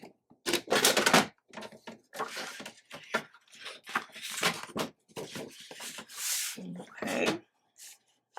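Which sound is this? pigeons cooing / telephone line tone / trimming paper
trimming paper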